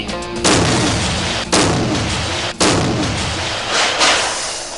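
A rapid chain of loud blasts and rumbling crashes as firecrackers bring down a brick building, four big booms each followed by a roaring, crumbling wash of debris, close and forceful.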